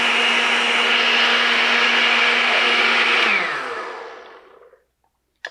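A countertop blender purees gazpacho, whirring at a loud, steady high pitch for about three seconds. It then winds down and fades out, followed by a brief knock.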